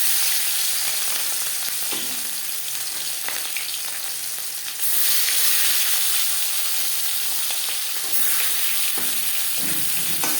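Marinated rui fish frying in hot refined oil makes a loud, steady sizzle that hisses continuously, with brief bursts of spattering and a few clinks from the pan.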